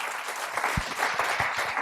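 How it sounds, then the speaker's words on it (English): Applause from a lecture audience at the end of a talk on prenatal origins of life challenges, a steady dense patter of many hands clapping throughout, fairly close and with no voices over it. "I think it deserves a standing applause"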